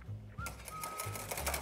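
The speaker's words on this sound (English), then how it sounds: "I'm just gonna like whisk a tiny bit in just to kind of get the eggs tempered" A whisk rattles fast against a bowl, beating eggs into hot chocolate pudding to temper them for a chocolate pudding soufflé. The quick, steady clicking sounds close and carries on for the whole moment.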